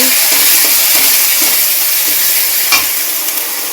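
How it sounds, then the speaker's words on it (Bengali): Cumin, ginger and garlic paste with chili powder frying in a pan, sizzling steadily while being stirred, with scattered scraping clicks of the spoon. "এই যে জিরে আদা রসুন বাটা দিয়ে নাড়াচাড়া করে নিয়েছি।"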